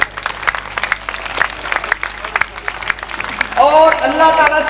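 Audience applause at an Independence Day celebration show in a village: a crowd claps steadily throughout, loud and close, with a brief tonal sound rising over the clapping near the end.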